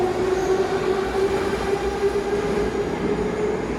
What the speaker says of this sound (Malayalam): ട്രെയിൻ മെട്രോ ആണിത്.